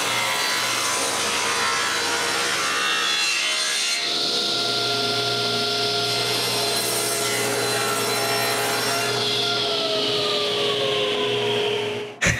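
A table saw with its blade tilted to 10 degrees cuts through wood, giving a loud sustained whine and grinding rasp that changes pitch as the cut goes on and then stops abruptly.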